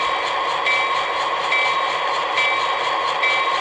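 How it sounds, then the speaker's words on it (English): An Athearn model locomotive sound decoder plays its bell, a steady electronic ringing with a regular repeating strike pattern, loud, close and alone. "Now, let's take a listen to what the bell sounds like."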